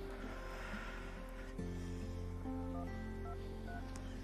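Telephone dialing tones on a hotline call for checking university exam scores, steady electronic tones stacking and shifting over a constant low hum, with no talk.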